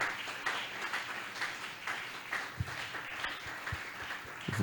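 Congregation at a French-language church prayer service applauding together, a steady wash of many hands clapping throughout with occasional louder individual claps standing out.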